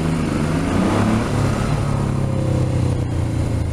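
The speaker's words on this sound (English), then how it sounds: "Oh, I can hear that lovely and clear. Can hear your bike." A motorbike engine running steadily while riding, a loud, close, continuous droning rumble with a slight rise in pitch and no talking.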